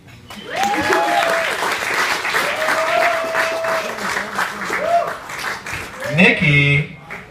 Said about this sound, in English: Round of applause for Ilit.